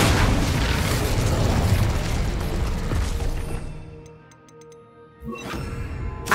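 In Hogwarts Legacy, the Incendio fire spell releases a loud, roaring burst of flame that fades over a few seconds into quiet faint ticking, followed by a short sharp pop.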